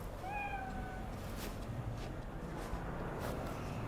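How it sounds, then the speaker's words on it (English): A cat meows in the video game Cyberpunk 2077: one rising-falling mew early on, faint over a steady hum of game ambience, with no talk. "Oh god, there's another cat."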